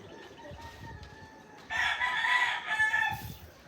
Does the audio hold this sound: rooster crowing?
yes